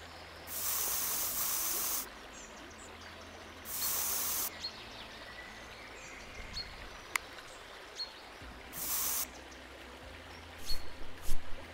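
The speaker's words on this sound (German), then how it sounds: "Ich glaube, wir fangen mit dem Sprühen an." Pressure-washer spraying in the Monuments Flipper video game, a steady hissing jet that comes in several bursts of one to two seconds each, separated by quieter gaps with small clicks and a few soft knocks near the end.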